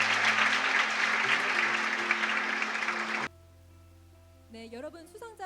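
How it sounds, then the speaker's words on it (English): Dense, loud applause from an audience at an international art competition award ceremony honouring the prize recipients, clapping steadily for about three seconds before stopping abruptly; a voice then begins speaking. "please give all the recipients a loud round of applause."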